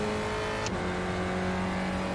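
Spec Racer Ford race car in iRacing at Spa-Francorchamps, its engine droning steadily and loudly through the whole stretch, with a brief high chirp partway in and the pitch settling after a gear change.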